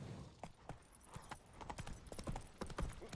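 Horse hooves clip-clop in The Witcher 3 video game, a steady, uneven run of sharp hoof strikes at moderate volume with no speech over them.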